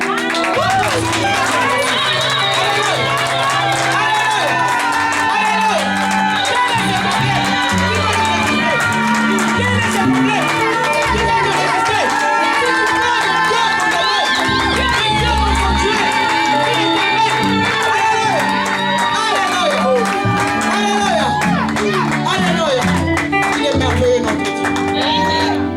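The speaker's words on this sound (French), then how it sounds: "Nous allons juste pousser les cris de joie, les clameurs pour ce Dieu là." A church congregation shouts and cries out with joy during worship, a dense, loud crowd roar with voices and music blending continuously throughout.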